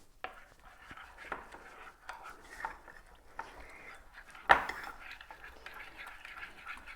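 Oobleck of corn flour and water with a drop of food colouring is stirred in a bowl, giving soft scraping and tapping strokes at a steady pace, with one louder knock midway and faint room noise throughout.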